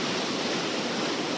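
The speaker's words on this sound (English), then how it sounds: "you can hear behind me the water going through the lock system for the canal" Water rushing through a canal lock system in central Bangkok, a steady, dense roar of flow that fills the whole moment without pause, fairly loud and close.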